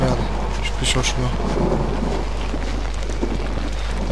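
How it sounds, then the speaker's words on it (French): Thunder rumbles heavily in the horror video game Outlast, a loud, continuous low roll blended with steady rain and wind. "ça fait flipper de voir franchement avec le tonnerre et tout"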